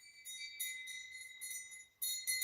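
Bells ring in short, repeated bright bursts at a moderate distance during a live tower-building stream, with brief gaps between strikes and a louder pair near the end.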